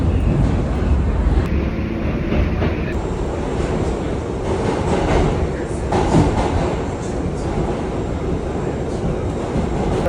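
Subway train in a large New York station, a loud continuous rumble and roar of rolling cars with rushing air and wind buffeting the microphone, steady throughout.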